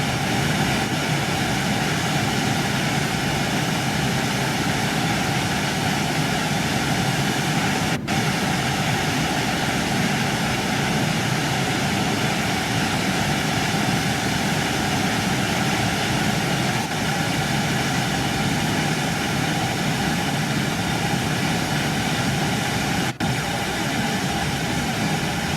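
An empty train runs in Train Sim World 3 on a line with third-rail track. A steady, low droning engine and traction hum carries on without a break, with only a couple of faint clicks.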